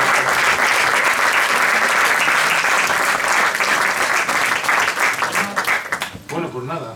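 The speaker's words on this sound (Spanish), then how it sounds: "Date un aplauso." Applause from an audience at a book presentation, dense and loud clapping that carries on evenly before thinning out toward the end as a voice starts to speak.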